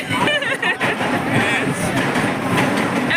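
Rumble and rattle of a moving Mumbai local train from inside a carriage, loud and continuous, with people chattering in the background.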